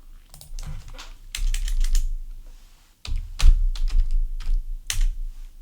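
Someone types on a computer keyboard nearby, with bursts of crisp key clicks, a short pause, then another quick run of keystrokes.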